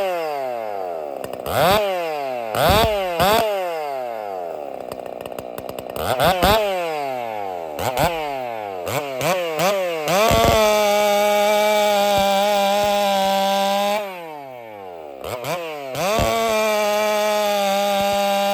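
A race chainsaw with rakers set by a Husqvarna-style gauge cuts wood, revving up in sharp bursts several times, then holding a loud sustained screaming whine through the cut before dropping off and revving again.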